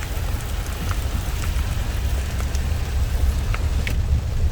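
Steady rain falls at a West Virginia campground marina, a dense continuous patter with a low rumbling wash beneath it, a few brighter drips standing out, and no voices.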